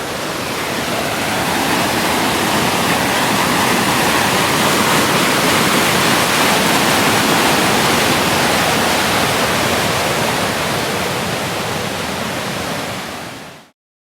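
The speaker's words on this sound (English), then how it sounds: "the rivers and creeks flooding, so a lot of water on the trail" A flooding creek on the Eightmile Lake trail in the Alpine Lakes Wilderness roars in a dense, unbroken wash of noise, loud and close, holding steady before cutting off abruptly at the end.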